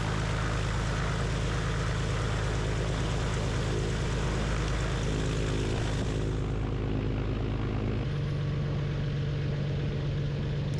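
A 1959 Piper Comanche PA-24 250 sits at Ridgeland with its engine running steadily while it taxis out for takeoff. The close propeller drone stays loud throughout, and the engine note shifts partway through as the airplane begins to roll.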